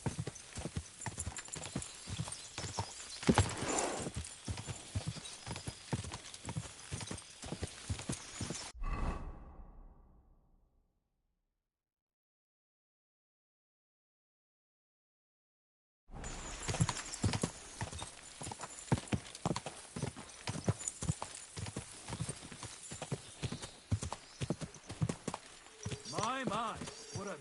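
Horse hooves clip-clopping in the medieval game Kingdom Come: Deliverance II, a steady rhythmic trot mixed with ambient game sound and a voice, cutting to silence midway before the hoofbeats resume.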